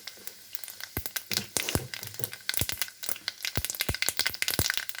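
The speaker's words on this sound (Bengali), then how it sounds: "এখন দিয়ে দেবো 1 চামচ 5 ফোড়ন।" Panch phoron spices crackle and pop in hot oil in a pan for a pineapple chutney, dense irregular snaps over a steady sizzle, close and fairly loud with no talking.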